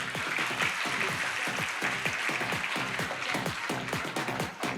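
An audience claps steadily at a stage show while a winner is announced, many hands beating in a dense, even patter that carries on without pause, moderately loud and close.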